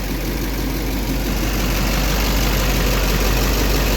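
A vehicle engine idles steadily on a house construction site, a low continuous rumble with faint knocking texture holding at constant loudness for the whole stretch, with no voices over it.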